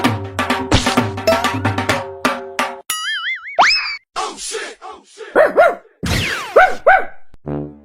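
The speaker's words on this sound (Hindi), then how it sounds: "दोनों कुत्ते आपस में लड़ रहे हैं" Two cartoon dogs fight, with rapid boings, clanks and springy cartoon effects. Short barks and yelps follow in quick bursts, loud and close, with gaps of silence between them.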